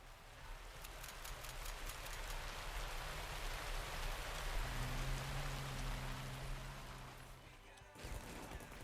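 A torrential rain effect in the KARDS card game, a steady heavy downpour hiss with a few crackling impacts early on and a low hum joining partway through before a brief drop near the end.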